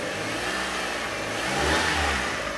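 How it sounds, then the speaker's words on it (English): A car engine idles up close, then gets a short, moderate rev partway through that swells and eases back, tested with its vacuum solenoid unplugged and a back-pressure transducer in the exhaust gas recirculation system; no voices. "I rev it a little bit."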